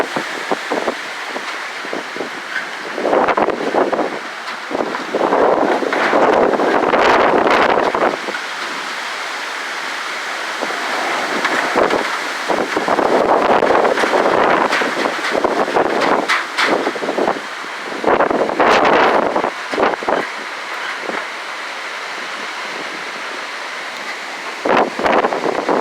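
Hurricane Laura's winds in August 2020 roar in sustained, surging gusts that swell and ease across the whole stretch, buffeting the microphone with heavy rushing noise and no voices.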